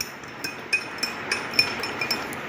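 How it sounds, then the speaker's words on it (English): A metal spoon stirs salt water in a drinking glass, giving light, bright clinks against the glass at a steady rhythm, about three or four per second, close by with no talking. "Stir the water well."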